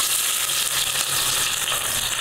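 Chopped onion and cumin seeds fry in four spoons of oil, giving a dense, even sizzle up close with a faint clicking of stirring underneath, no voices.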